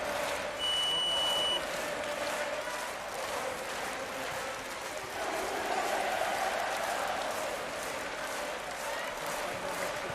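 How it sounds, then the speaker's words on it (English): A steady, loud crowd roar fills a volleyball arena during a women's World Championship quarter-final between Serbia and Poland, sustained throughout with no break. "Crowd trying to get their team back into it."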